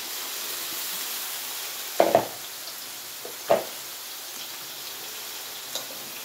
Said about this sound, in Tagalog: Lagay na natin ang chicken liver.